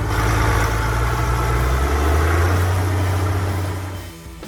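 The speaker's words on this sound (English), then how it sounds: "The Allis-Chalmers D21 is equipped with a 6-cylinder, 426 cubic inches diesel engine." A six-cylinder 426 cubic inch Allis-Chalmers D21 diesel tractor idles steadily up close, with a low, even rumble and a deep hum that hold throughout before fading slightly near the end.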